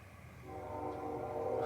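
A distant passing train rumbles steadily with a long sustained horn tone drawn out over it, heard from a campsite, growing slightly louder toward the end.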